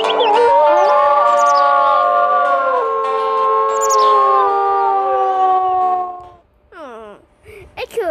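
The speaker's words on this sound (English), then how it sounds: "Everybody, howl!" Wolf pups in the video game WolfQuest howl together in long, loud, wavering overlapping tones for about six seconds, followed by a short high yip-like call.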